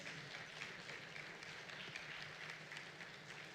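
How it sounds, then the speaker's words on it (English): Applause rises from a summit audience as a speaker is welcomed, a steady wash of clapping from many hands, heard faint and distant throughout. "Welcome, Dr. Ghebreyesus, with a resounding round of applause."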